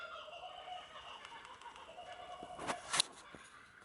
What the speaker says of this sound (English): Those are not monkeys, they are kookaburras, birds.